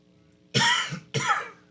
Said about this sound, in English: Somebody got me coughing today.